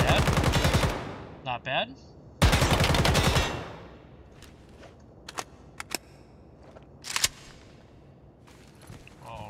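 Gunfire from a WZ-88 AK-style rifle in the Ground Branch video game: two loud sustained automatic bursts, each about a second long, then scattered single sharp shots. A brief voice comments between bursts.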